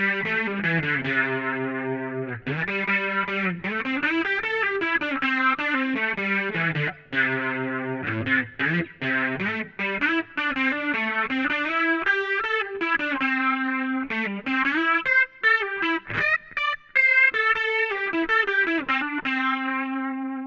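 Electric guitar played through a Leslie-style rotating speaker patch with reverb, aiming for a classic recorded guitar tone; a warm, swirling, continuous melodic line with sliding notes, loud and alone for the whole stretch.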